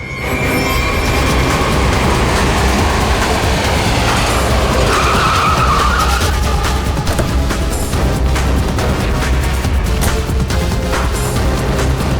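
A car tears away with tyres skidding and squealing in a loud, continuous roar of engine and screech that fills the whole scene.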